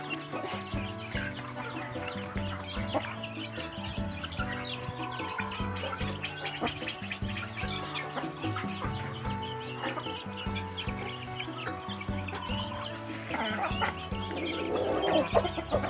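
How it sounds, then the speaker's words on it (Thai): Burmese chickens cluck and call continuously amid a busy, layered backdrop of other birds, steady and fairly loud throughout with no talking. "เป็นไก่พม่าครับ"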